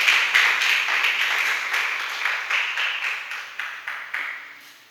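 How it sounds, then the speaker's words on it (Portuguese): A church congregation applauds during a worship service, clapping in a roughly steady, reverberant rhythm that fades gradually into a few spaced final claps. "Aplauda o Senhor mais uma vez"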